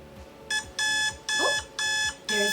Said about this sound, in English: there's my alarm that tells me my next class is starting